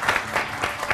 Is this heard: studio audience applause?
yes